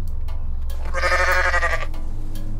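A goat bleats in the video game Goat Simulator, one long wavering cry of about a second standing out over a steady low background hum.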